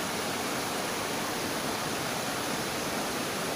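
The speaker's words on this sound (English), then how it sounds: "This is a Ripo River." A river in Trinidad flows over rocks, giving a constant, dense rushing hiss that is loud and close with no pauses.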